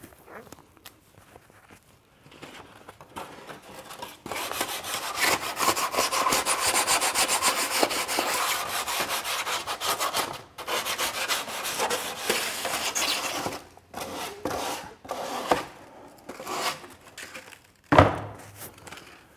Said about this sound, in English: we're only going to give it a light sanding inside and out